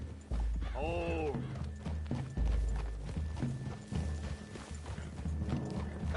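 Horse hooves clip-clop on the ground in Red Dead Redemption 2 as riders move through the trees, steady rhythmic steps close by under ongoing talk, with a brief horse whinny early on.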